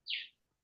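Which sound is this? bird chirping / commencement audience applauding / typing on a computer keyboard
bird chirping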